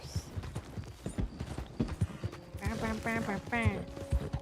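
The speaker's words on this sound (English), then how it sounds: "This game is so peaceful when you're just riding a horse." Rhythmic hoof clip-clops of a horse being ridden in a video game, steady and moderately close, with someone talking over them partway through.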